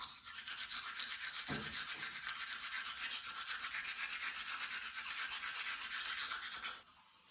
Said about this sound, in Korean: 양치 네, 양치를 하고 있어요.